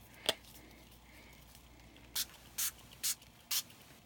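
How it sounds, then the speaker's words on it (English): Distress stain is sprayed onto glossy cardstock in short, airy hissing bursts: one quick spritz, then four evenly spaced sprays in a row, close up in a quiet room. "So this is just glossy cardstock, and so I'm going to spray a little on there"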